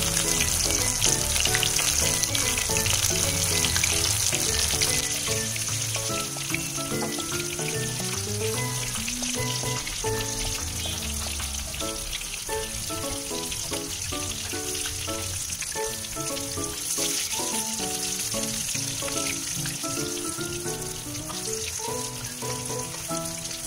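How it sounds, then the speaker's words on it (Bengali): Small shrimp pakoras deep frying in oil over medium heat, four or five at a time, give a loud, dense, steady bubbling sizzle that runs unbroken the whole way through, close up and alone. "চার থেকে 5টা করে একসঙ্গে ভেজে নেব।"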